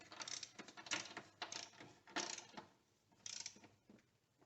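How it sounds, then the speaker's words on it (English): Torque wrench ratcheting on strut bolts of a 2002–2007 Toyota Highlander during a front and rear strut job, several quick clicking bursts separated by short pauses, close and fairly quiet. "we're going to torque these to 36 foot-pounds"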